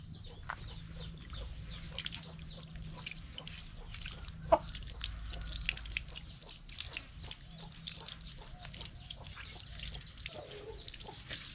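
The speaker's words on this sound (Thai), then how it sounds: "เราจะอาบน้ำไก่นะให้มาเปียกเลยนะครับ" A newly caught chicken being bathed with water below the chest, with scattered drips and splashes and occasional soft clucks from the bird over a low steady background.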